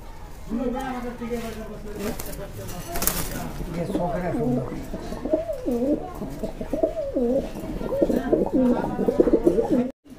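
A male maxi racer pigeon coos in repeated rolling calls, close and clear, while someone talks over much of it.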